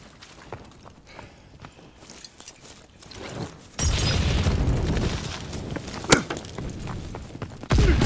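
An explosive charge detonates in a video game after a quiet stretch of faint shuffling. A sudden loud boom gives way to a sustained rumbling roar, with a sharp crack partway through and another heavy hit near the end.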